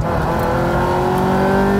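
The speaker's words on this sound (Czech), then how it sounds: "Tohle auto spíš víc řve, než jede" Ferrari F355 Spider engine revving hard, a loud rising howl with climbing harmonic tones over a short burst, close and unbroken by talk.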